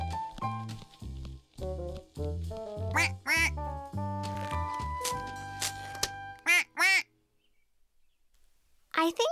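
Several cartoonish duck quacks come in short bursts between lively voices talking, with one final quack after a brief pause.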